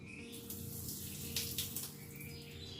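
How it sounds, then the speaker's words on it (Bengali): Sago being rinsed under filtered water, a steady faint trickle and splash with soft wet stirring, quiet and continuous throughout. "অবশ্যই ফিল্টারের জলে ধুচ্ছি"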